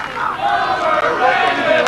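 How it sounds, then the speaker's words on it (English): A soccer crowd at a 1997 Auburn vs Virginia match chanting in unison, a loud rhythmic roar of many voices carrying through the stadium. "Chants of overrated coming from the crowd"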